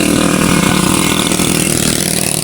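Motorcycle engine running steadily and loudly up close throughout, a continuous mid-pitched drone with a faint throttle rise, heard on the way to a camp outing.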